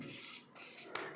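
Pen writing on paper during a history lecture, a short close scratchy stroke that pauses briefly and resumes, with no talk over it.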